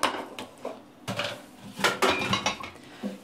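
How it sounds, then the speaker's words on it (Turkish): Metal cookware clanks and knocks several times in quick, uneven bursts, close and fairly loud, as a pot is handled. "Şimdi tenceremi alıyorum."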